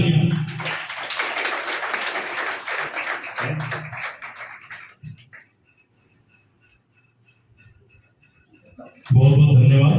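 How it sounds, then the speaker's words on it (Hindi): Audience at a school Mother's Day event gives a loud round of applause that builds quickly and then fades out to near silence, after which a voice speaks up close at the end. "जोरदार तालियां"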